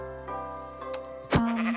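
A sheep in the video game Minecraft bleats twice, one wavering call followed by a sharper one, clear and close with faint music underneath.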